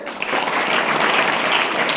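An audience claps at a religious discourse, with dense, steady applause from many hands filling both seconds at close range.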